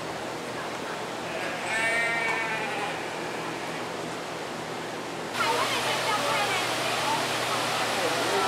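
Lambs on a farm bleat once or twice in a brief wavering call over a constant rushing background, and the background noise grows louder partway through.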